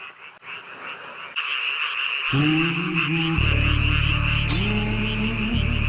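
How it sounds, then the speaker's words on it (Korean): Loud, dense chorus of frogs croaking through the night beside Cheongpyeong Lake in Gapyeong, a continuous layered trill that swells and thickens midway and stays close and overwhelming, with no talk over it. "아 개구리 소리 와 미치겠습니다"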